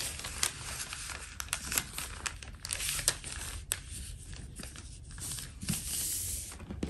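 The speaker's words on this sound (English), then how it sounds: "Just keep folding like this." Paper being folded back and forth into a fan shape while gift-wrapping a wine bottle, giving steady close crinkling and tearing-like rustles with sharp crackles throughout.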